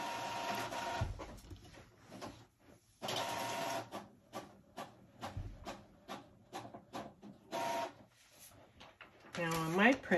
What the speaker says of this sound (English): Going to print it on regular paper first.